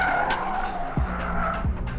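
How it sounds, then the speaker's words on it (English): Porsche Taycan GTS electric sports car accelerating, its synthetic sports sound a steady, somewhat metallic hum that rises continuously, with brief low tyre chirps or squeals and no talking. "the GTS Taycan has a specially developed sports sound, which is a little bit more aggressive, a little bit more kind of metallic sounding"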